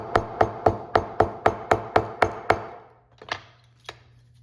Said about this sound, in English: I'll take a hammer, it could be any smooth hammer if you don't have a leather working hammer